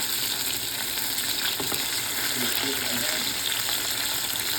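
Chicken wings frying in hot oil make a dense, continuous sizzle and crackle throughout, close and fairly loud, with faint bursts of bubbling spatter.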